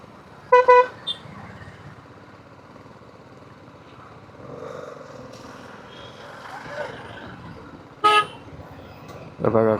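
Car horns toot in a few short bursts amid a steady rumble of slow-moving cars, motorcycles and trucks in a traffic jam on the Mangaon bypass, with people talking over the congested road.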